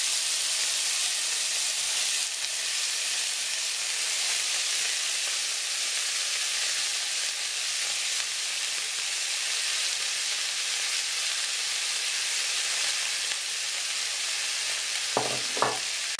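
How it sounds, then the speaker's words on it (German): Minced meat sizzles steadily in a very hot pan, a continuous loud frying hiss with a couple of brief clinks near the end. "Jetzt das Hackfleisch anbraten, ganz scharf."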